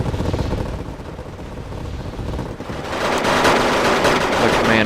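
Heavy gunfire and bombardment roll through a Wargame: AirLand Battle match, with continuous rattling machine-gun bursts over low rumbling explosions that swell louder toward the end.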